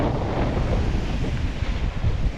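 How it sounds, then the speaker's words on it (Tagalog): Large ocean swells rolling against a boat at sea in the West Philippine Sea, heard as a dense low rumble of surf with heavy wind buffeting the microphone, steady and close, with no talking. "Yan o, alon ay malalaki."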